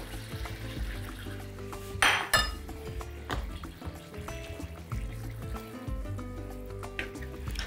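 Coconut milk is poured into a pan holding chicken broth, bulgur and vegetables, a gentle liquid stream with sharp clinks of a cup or utensil against the pan, over quiet background music.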